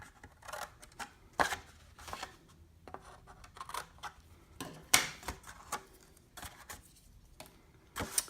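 Scissors snip through paper tabs on a handmade card box, giving several separate crisp cuts at uneven intervals, close and fairly quiet, with a sharper snip near the middle and another at the end.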